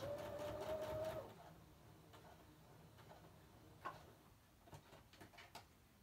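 A sewing machine runs a straight stitch while different elements are collaged, its rapid mechanical whir loud and continuous for about a second before stopping, followed by quiet intermittent clicks and taps of fabric handling.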